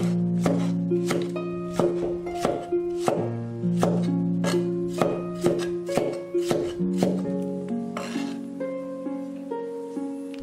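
Knife striking a cutting board in steady repeated chops as tomatoes are cut into small pieces, each crisp thunk close and distinct, with background music playing throughout.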